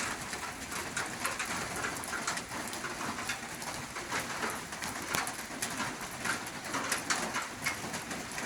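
Steady rain falls over a rural village in Roi Et province, Thailand, a constant even hiss that fills the whole scene, with birds, including doves, calling faintly in the background and no voices.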